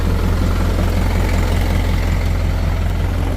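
A truck engine idles steadily and loudly after repairs to its fallen fuel tank and rotted brackets, a constant low rumble with no pauses and no voices.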